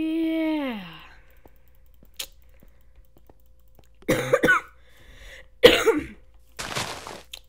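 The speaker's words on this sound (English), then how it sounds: "Sorry if I'm coughing, if that bothers you." Coughing from a person at a computer, a few short harsh bursts spaced seconds apart, close and fairly loud, after a brief falling vocal sound and a faint click.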